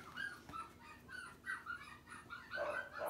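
Five-week-old puppies yip and whimper in a busy, overlapping chorus of short, high cries that keeps going throughout.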